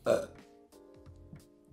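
A single short, loud burp up close, followed by soft voices talking in French.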